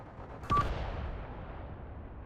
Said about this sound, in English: These guys are now taking artillery fire